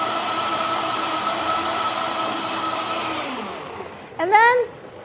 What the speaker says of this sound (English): It's hard to talk over a blender.